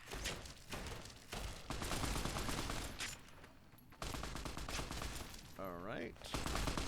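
Gunfire in the video game Fallout New Vegas, with bursts of automatic shots sounding in quick succession at moderate level. Someone talks over parts of it.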